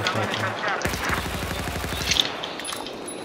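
Rapid automatic gunfire rattles in a Battlefield match on the Golmud map, a sustained burst of close, evenly spaced shots lasting over a second amid game noise and voice chat.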